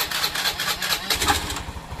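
A rebuilt Honda Beat, Scoopy or Genio scooter engine turns over and catches, a short burst of close, mid-pitched mechanical chatter and putter settling into an idle.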